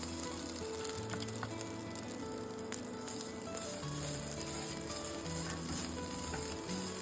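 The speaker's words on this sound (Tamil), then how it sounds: "இப்போ அதே பேன் வச்சு நம்ம எடுத்து வச்சிருக்க தேங்காய் துருவலை நல்லா ரோஸ்ட் பண்ணி எடுத்துக்கலாம்" Grated coconut dry-roasting in a pan gives a steady, close sizzle with soft stirring scrapes throughout, and no voices.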